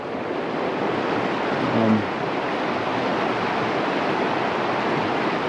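Steady rushing water of the Knee Brook, a continuous broad wash of flowing water with no voices.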